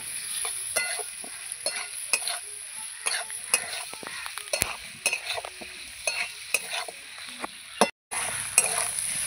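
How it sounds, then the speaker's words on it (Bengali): Pointed gourd and shrimp stir-fry in a pan with a steady bright sizzle, punctuated by regular sharp spatula knocks and scrapes against the metal, close up and without talk. "ভালো করে এবার আমি কষাবো।"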